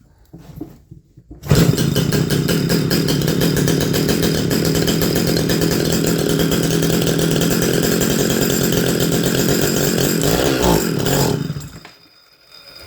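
An Echo 650EVL chainsaw engine, freshly fitted with a rebuilt carburetor, starts abruptly and runs at a loud, steady roar with a throbbing idle for about ten seconds before cutting out into silence.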